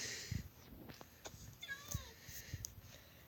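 A faint cat meows once or twice in Minecraft, a short rising cry amid soft clicks and ambient game sounds.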